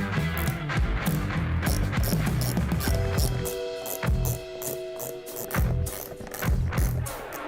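Nuts on a Raider World combo kit being tightened with a ratchet wrench in rapid, repeated clicking strokes, close and clear, with short pauses between bursts of ratcheting.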